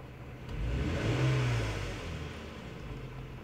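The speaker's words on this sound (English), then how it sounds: "I'm going to rev it up" A Toyota or Lexus car engine with a misfire on cylinder 2 revs up from idle, swelling to a peak and then easing back down over about three seconds, heard close and alone.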